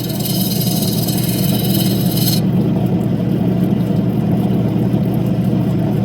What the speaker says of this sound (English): material pretty much just melts away on this diamond wheel